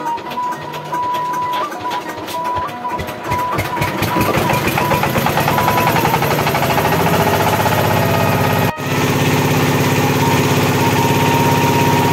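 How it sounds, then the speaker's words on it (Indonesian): A diesel-powered cassava grinding mill starts up and runs, a loud steady engine drone with a rapid mechanical thumping rhythm that builds over the first seconds, then holds continuous and close with a brief dropout near the end. "Mesin giling tersebut adalah mesin diesel yang berbahan bakar solar."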